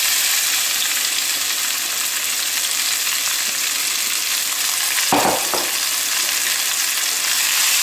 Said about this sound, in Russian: И жарим его до золотистого цвета.